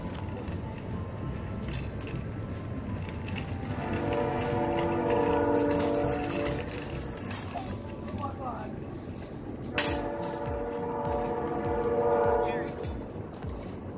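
Train rolling past near a hillside street where kids ride a shopping cart, with a long horn blast sounding twice over steady rumble and voices talking.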